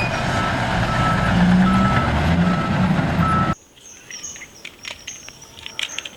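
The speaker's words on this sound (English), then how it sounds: "this is a dam truck, big size dam truck" Big dump truck with a reversing alarm, a loud engine rumble with a steady beep tone for about three and a half seconds, then an abrupt drop to quieter outdoor ambience with insect and bird calls.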